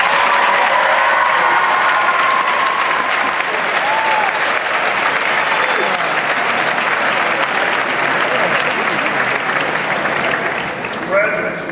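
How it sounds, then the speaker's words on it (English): High school graduates and the crowd at a graduation ceremony give parents and guardians a sustained round of applause, loud dense clapping close and continuous throughout, with some cheering mixed in. "Graduates would like to show their appreciation with a round of applause for all those their attendance has supported them"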